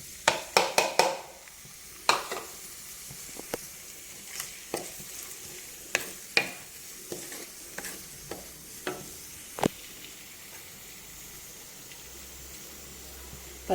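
Onions, green chilies and curry leaves fry in a pan with a steady, soft sizzle, broken by a series of sharp scrapes and clinks as a spoon stirs them, clustered early and spaced out later, close and moderately quiet.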